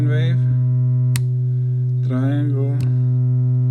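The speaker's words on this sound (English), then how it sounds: "This is sine wave," A steady electronic tone with a strong low fundamental and even harmonic stack hums continuously from an Erica Synths EDU DIY modular synthesizer, interrupted by brief clicks and short bursts of talk.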